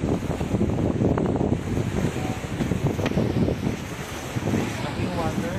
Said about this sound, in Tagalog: lakas ng dagat